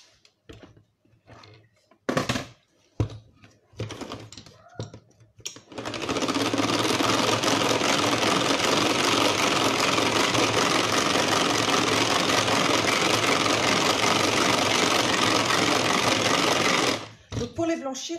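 An electric mixer on speed 1 whisks 75 grams of sugar, its motor whirring loudly and evenly for about eleven seconds after some brief talk and kitchen clatter.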